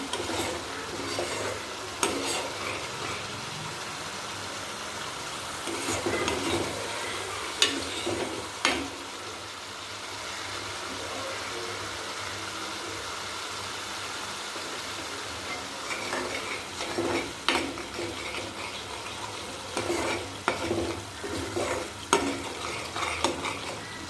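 Dry pickling spices and asafoetida sizzle in hot oil for brinjal kadhi, with a spoon scraping and clanking against the pan in irregular bursts over a steady frying hiss.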